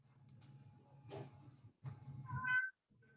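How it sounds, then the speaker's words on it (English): A cat meows a couple of times, including a short rising meow, over a low background hum of kitchen activity. "Can you guys hear my cat"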